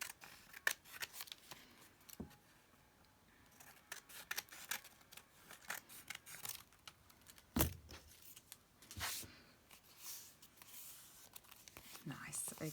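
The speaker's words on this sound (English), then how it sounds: "I don't think I can tear this one, so I'll have to trim it." Scissors trim a paper journal tag, giving a scattering of quiet, sharp snips and crisp paper rustles at close range, mixed with soft handling noises and faint, low speech.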